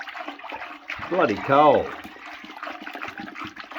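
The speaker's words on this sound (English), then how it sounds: "So we stir this into a vortex, get it going in one direction" Cold water is hand-stirred into a vortex for a biodynamic preparation, giving a soft swirling slosh. Someone talks over the water.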